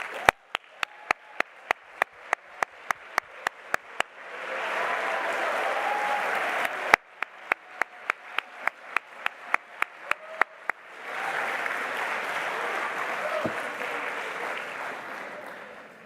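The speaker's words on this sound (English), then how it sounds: "please rise so we can give you a big round of applause" Graduation audience at a December masters ceremony applauds in long sustained bursts, broken by sharp, evenly spaced single loud claps or beats between the waves of clapping.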